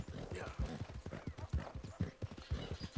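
A horse gallops fast in Red Dead Redemption 2, its close hoofbeats pounding in a quick, steady rhythm throughout, with faint background noise.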